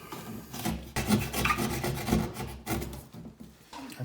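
Rasping, scraping strokes of a blade trimming a plastic old-work electrical box that is slightly taller than a removed Bakelite box, repeated close up in uneven bursts for several seconds with no talk.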